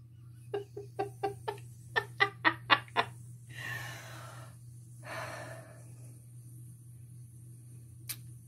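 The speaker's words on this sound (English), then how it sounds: "It's gonna blow my nose." A run of nine short, sharp nasal bursts in quick rhythm, then two longer breathy blows, close up over a steady low hum.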